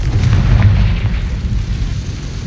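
A Confringo fire-spell blast from Hogwarts Legacy, heard as a deep, loud, rumbling boom that stays heavy for the whole span and slowly dies away, with no voices.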